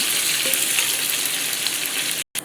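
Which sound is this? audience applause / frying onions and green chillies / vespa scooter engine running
frying onions and green chillies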